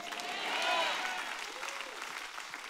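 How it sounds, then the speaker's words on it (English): Church congregation clapping at an anniversary service, a broad wash of applause swelling within the first second and then continuing steadily at moderate level, with faint voices calling out over it. "somebody clap your hands and say a good amen"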